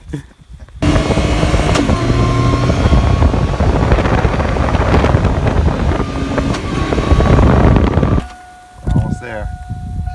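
A loud engine of a GMC Jimmy roars steadily for several seconds with broad rumbling noise, then cuts out abruptly near the end, leaving faint background sounds.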